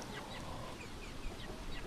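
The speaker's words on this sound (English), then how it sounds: "a flock of chickens head out for the morning on Rodmee's farm" Free-range chickens on a farm on a chilly, windy morning, clucking and calling in a dense flock chorus, close and continuous with gusty background noise and no talk.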